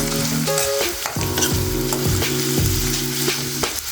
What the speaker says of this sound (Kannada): ಕರ್ಬೇವಿನ ಸೊಪ್ಪು ಒಂದೆರಡು ಹಾಕಿ ಚೆನ್ನಾಗಿ ಫ್ರೈ ಮಾಡ್ಕೊಳ್ಬೇಕೀಗ